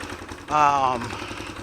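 A rebuilt 2001 Honda XR200R dirt bike engine idles with a quick putter, then briefly blips up into a louder, buzzy rev before settling back to idle, close by.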